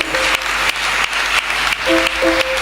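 A church congregation applauds together, loud and close, with sustained clapping that carries through faint background music.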